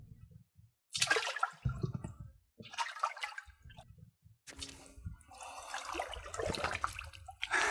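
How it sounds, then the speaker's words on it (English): A person climbs into a cold plunge tub, stirring up loud bursts of sloshing and splashing water that come in uneven waves with short quiet gaps between them. "Let's get into the cold tub."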